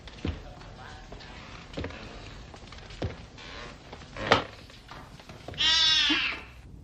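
A cat gives a clear, fairly loud meow near the end, following a few dull thunks and soft background noise in an indoor room.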